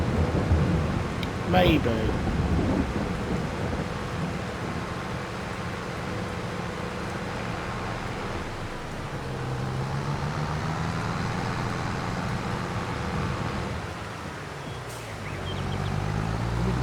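Rain and rolling thunder from a wet day in Farming Simulator 22, a steady wash of rainfall with low distant rumbles throughout, a brief voice speaking over it.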